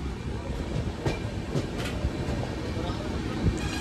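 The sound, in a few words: 12062 Jan Shatabdi Express train running on rails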